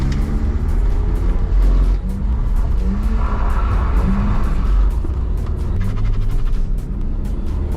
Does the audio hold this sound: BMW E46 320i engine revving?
yes